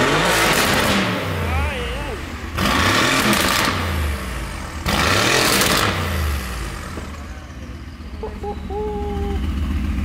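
A BAC Mono sports car with an all-titanium exhaust line is revved in a workshop, three sharp throttle blips rising and falling loudly up close, followed by a lower idle.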